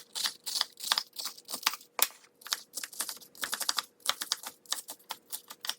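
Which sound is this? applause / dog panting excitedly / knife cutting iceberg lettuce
knife cutting iceberg lettuce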